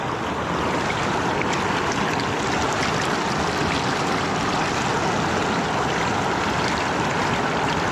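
A river current rushes steadily and loudly over a gold-sampling spot, a dense continuous wash of water with no talk and no pauses.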